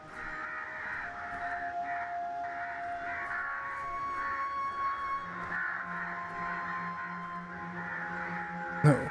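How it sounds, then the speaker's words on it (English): Within the video game Only If, a crow caws steadily over a dense, sustained ambient soundscape with humming tones, the calls repeating at moderate loudness for several seconds. "Why the crow's quacking?"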